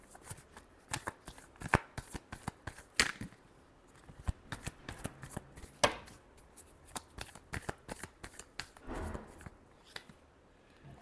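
Tarot cards are shuffled by hand close up, a quiet series of crisp riffling and slapping bursts in an uneven rhythm, with no talking over them.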